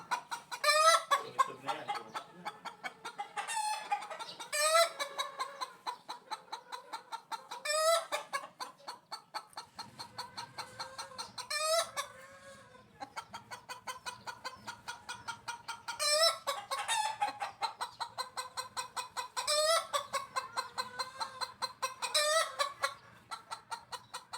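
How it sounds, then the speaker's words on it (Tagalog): A broody hen cackles loudly on her nest after laying an egg in a backyard, with repeated bursts of clucking and squawks over about twenty seconds, close by, with short pauses between bursts. "Maya-maya pa ay biglang pumutak yung inahin na nangingitlog. Nasa pugad pa siya pero putak na ng putak."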